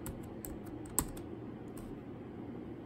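Quiet, fast typing on a computer keyboard: a run of light key clicks with one sharper tap partway through, heard close up in an indoor room.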